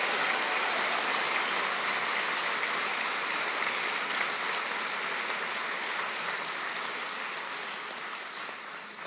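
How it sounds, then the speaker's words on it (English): Sustained audience applause for graduates at a college graduation ceremony, a dense, steady wash of clapping from a large crowd that holds throughout and fades slightly at the end. "Now let's have our big round of applause for all the graduates on our 12 postgraduate programmes this morning."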